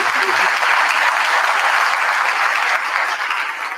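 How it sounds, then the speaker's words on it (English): A school board meeting audience applauds in honor of the art staff, a dense, steady clapping that stays loud and continuous throughout and then eases slightly toward the end. "So I think that just deserves a round of applause for our art staff."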